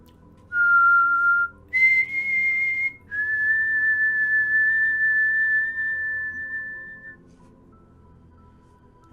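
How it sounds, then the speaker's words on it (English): Someone whistles a few sustained single notes, a short tone, a higher one, then a long held note that slowly fades, clear and alone against a quiet hum. "You hear someone whistling."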